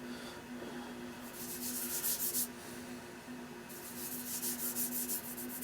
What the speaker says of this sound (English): we're going to put Timberlux on the stock and sand it in to fill the pores